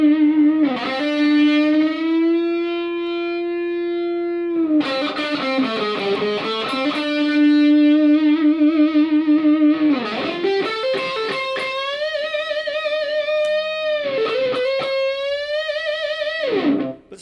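Electric guitar played through an MXR distortion pedal set about halfway, loud sustained chords and single notes with rich overdriven harmonics, starting to compress, no voices.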